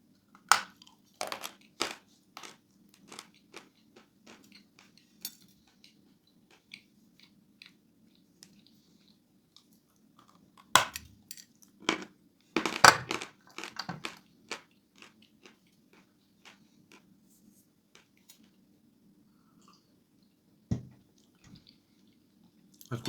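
Someone bites and chews a hard piece of edible clay chalk, with sharp dry crunches in bursts between quiet pauses, very close and with no talk.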